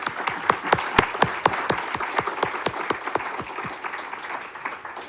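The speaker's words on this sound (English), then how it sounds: "I would invite you to actually give them a round of applause for their work for today" A room of attendees at a cost of living summit applauds a ministry team, starting with sharp, distinct claps that blend into a steady round before gradually fading.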